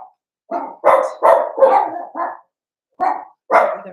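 Several dogs barking in a loud, close chorus, bursts overlapping in rapid clusters with short pauses between volleys.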